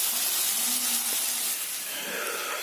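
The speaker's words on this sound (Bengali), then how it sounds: "এটা আমরা এবার ভালো করে একটু ভাজবো" Masala and onion frying in a pan for masala chira, a steady close sizzling hiss that stays loud and even throughout, no talk.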